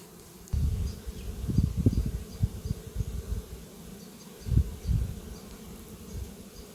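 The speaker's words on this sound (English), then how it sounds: "It's a big swarm, isn't it?" A big honeybee swarm being recaptured outdoors as the bees fly back into their box, giving a dense low buzzing hum with fluctuating surges, close and fairly loud, no talk.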